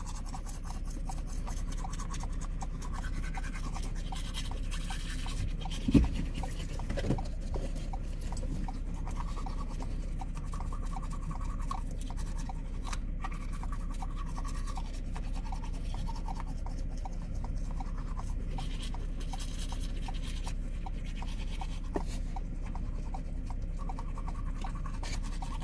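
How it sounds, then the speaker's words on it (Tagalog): A toothbrush scrubbing quickly, making a steady, close rasping and scratching noise that runs unbroken for the whole stretch, with one brief knock partway through and no talk. "Mabilis ang toothbrush."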